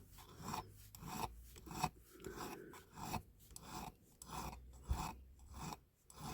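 A diecast Dinky Toys Jaguar XK120 (No. 157, 1954–57) being smoothed with a file: about a dozen close, steady rasping strokes in an even back-and-forth rhythm, with no talking.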